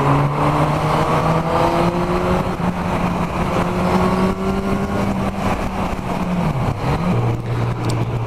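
A Honda CB1000R motorcycle with its stock exhaust hums steadily while riding, its engine note holding a smooth purr before dipping briefly and settling again, loud and close with wind rush.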